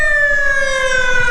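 A wailing emergency siren with a steady, strong harmonic tone, loud and continuous, heard on a street across from a protest with police vehicles gathered nearby; no talking over it.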